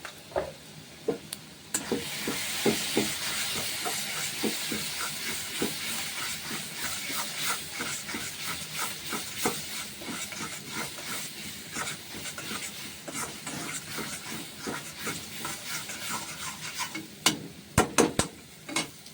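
Ground cumin, turmeric and chili powder frying in a pan: a constant loud sizzle and hiss runs throughout, broken by scattered crackles and stirring scrapes, with no talk.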